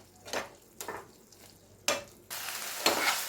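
Cooked onion and tomato are mashed in a pan for prawn roast: a few separate scraping strokes against the pan, then a louder sustained sizzle that continues under further stirring.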